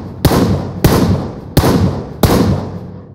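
Four loud gunshots fired one after another at steady intervals in PUBG Mobile, each a sharp crack with a booming tail, no talking.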